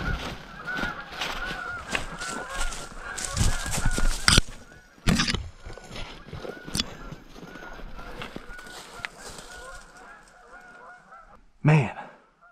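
Geese honking in the woods, a busy overlapping chorus of calls at moderate distance that thins out and fades, with a louder burst near the end.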